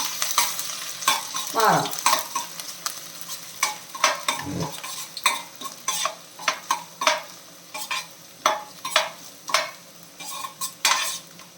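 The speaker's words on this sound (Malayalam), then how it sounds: "ഇത് രണ്ടും കൂടെ ഒന്ന് വഴറ്റണം" Ingredients sautéed in oil in a pan while a spoon scrapes and stirs them in repeated strokes, a steady close sizzle under sharp rhythmic clicks of the utensil, with a brief spoken word.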